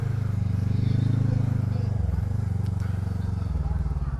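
A Voge 500DS (Loncin DS7) motorcycle engine pulses steadily under throttle with a low, throbbing note that shifts pitch as revs change, along with faint wind and road noise.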